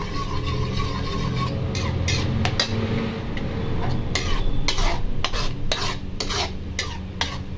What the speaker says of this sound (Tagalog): haluin natin para maging maganda ang pagka-scramble